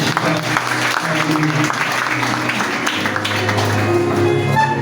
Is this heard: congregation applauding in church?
yes